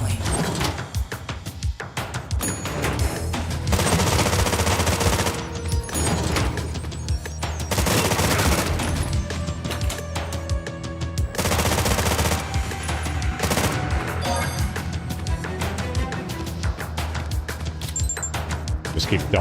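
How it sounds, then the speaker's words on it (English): Rapid gunfire from shooting enemies in the Terminator 2D: No Fate game, loud repeated bursts and crashes running through a busy action soundtrack, with a voice talking over parts of it. "Just keep ducking and shooting everyone's kneecaps off"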